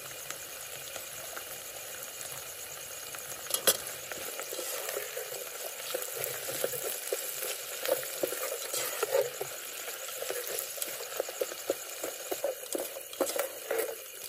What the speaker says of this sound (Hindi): सारे सब्जियां भी एक साथ फ्राई कर लेंगे